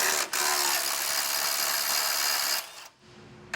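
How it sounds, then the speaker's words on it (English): A ratchet wrench with an 18mm socket works a bolt loose on a vehicle base plate installation, giving a close, continuous fast clicking whir that stops abruptly near the end. "So I'm going to get an 18mm socket and wrench"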